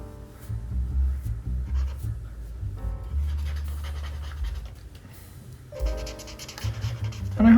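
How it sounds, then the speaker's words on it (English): A marker pen scratches and squeaks across paper during drawing practice, with uneven strokes that come close and fairly loud, pausing briefly between lines. "I love that sort of like squeaky marker sound on the paper."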